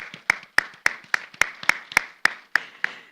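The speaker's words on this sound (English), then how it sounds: "Can we get a round of applause?" Slow, evenly spaced hand claps, about ten sharp beats, ring out from a small audience at an Indonesia-Australia prosperity exhibition showcase.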